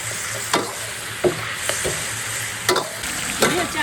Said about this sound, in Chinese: 我继续炒